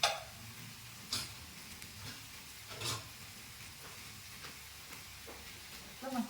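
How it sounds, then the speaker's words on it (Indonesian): Village chicken being stirred in a pot for chicken soup, with faint scraping and soft sizzling, a few brief clinks spaced apart, and a low background. "Masih kita aduk ya guys."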